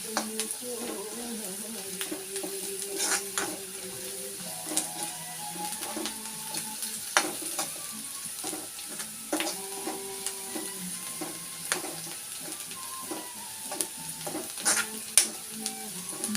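Food fries in a pan while being stirred until it browns, a low continuous sizzle with frequent scraping and clattering stirs; faint voices murmur in the background.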